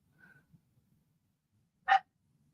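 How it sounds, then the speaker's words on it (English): A single short dog bark rings out close by after near silence, with faint low rustling before it. "there isn't a show where we don't have a dog barking in the background"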